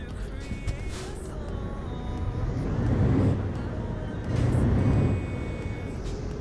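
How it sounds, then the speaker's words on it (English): A heavy truck engine in a video game rumbles steadily, swelling twice in low revving surges before settling back to an idle drone. "Quite like the sound of this truck as well."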